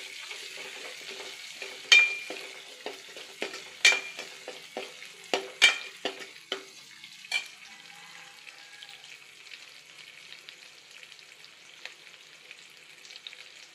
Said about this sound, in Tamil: கருவேப்பிலை சேர்த்துட்டு பூண்டும் சேர்த்துக்கலாம். கொஞ்சம் வதங்கட்டும்.